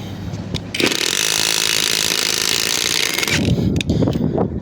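A Hyper Tough 12V 3/8 inch cordless impact wrench hammers away in one sustained, loud, buzzing run of about three seconds, with brief clunks and handling noise before and after it.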